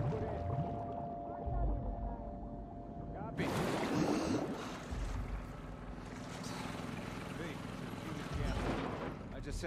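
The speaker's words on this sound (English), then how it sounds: "The engine back up." In the video game The Last of Us Part 2, a boat engine starts up and runs with a steady low drone, then swells into a louder, churning roar with rushing water, while a voice speaks faintly at first.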